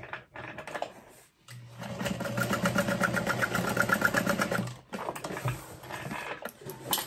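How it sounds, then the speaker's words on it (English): Sewing machine stitching darts closed on a vinyl crossbody bag, a steady rapid mechanical whir of needle strokes running for several seconds, stopping briefly, then resuming for a shorter burst. "now it's time to sew these darts closed"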